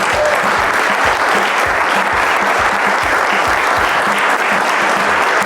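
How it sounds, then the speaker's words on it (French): A large crowd gathered for a father-finding challenge applauds loudly and continuously, a dense wash of clapping with no pauses. "le fils d'Olivier qui s'appelle Marley, on l'applaudit"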